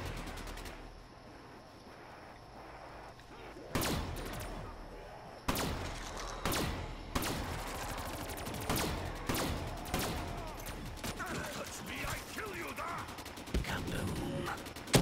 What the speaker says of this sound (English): I'm shooting them out window